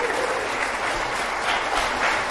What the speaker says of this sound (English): I want to just give a round of applause to all of you.